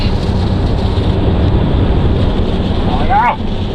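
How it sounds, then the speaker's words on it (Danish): Strong wind buffets the microphone during a thunderstorm near Roskilde, a loud continuous roar with gusty rumble throughout, and a brief voice near the end. "Shit, hvor det blæser der, mand."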